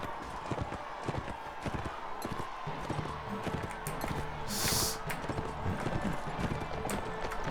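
Horses gallop in the Mount and Blade Warband video game, with rapid, continuous clip-clopping hooves and clattering game noise throughout.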